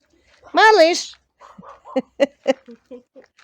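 A dog gives one drawn-out whining yelp at the start, then a string of short, softer barks and yips follows in a loose, uneven rhythm, close by and otherwise quiet.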